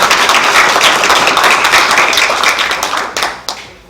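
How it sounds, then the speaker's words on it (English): Audience clapping at a university moot court competition closing ceremony in Tanzania, dense and loud at first, then thinning into scattered claps near the end. "Clap for Tanzania."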